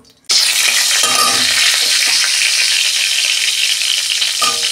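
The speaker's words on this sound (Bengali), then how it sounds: "ফোড়নের শুকনো লঙ্কা দিচ্ছি 2টো।" Two dried red chillies hit hot oil in a wok for a Bengali tempering, bursting into a loud, steady sizzle that starts abruptly and holds close and continuous, with faint stirring clinks.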